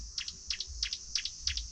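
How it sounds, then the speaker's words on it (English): Birds chirp in a quiet village with no traffic or industrial noise, giving short bright call bursts about every third of a second, fairly near and clear over a low background rumble. "You heard the birds, guys."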